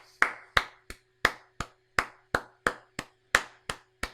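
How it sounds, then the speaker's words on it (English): A run of about a dozen sharp, evenly spaced hand claps, close and clear over a faint low hum, with no talking. "Everyone, clap for Giant rock."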